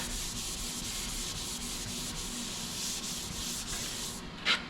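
A Dodge car door is block sanded by hand with fine grit sandpaper, producing a continuous close rasping rub with steady back-and-forth strokes and a brief knock at the end.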